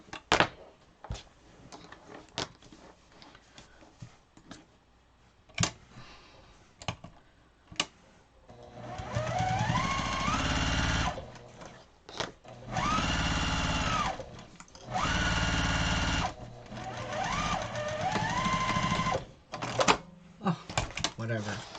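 Sewing machine stitching a fabric pillow in bursts of several seconds each, with pauses between runs and quiet talking and handling noises in the gaps.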